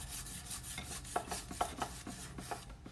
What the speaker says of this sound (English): So you just take a piece of chalk and rub it on the surface